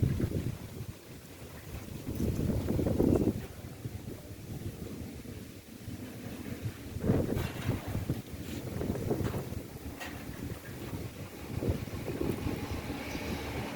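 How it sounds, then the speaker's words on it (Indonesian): Strong gusty wind ahead of rain in Udanawu district buffets the microphone with loud rolling surges and roaring rumble throughout, rising and easing in repeated waves without a pause. "Ini anginnya datang kencang sekali ya. Ini daun-daun sampai berguguran semua ya."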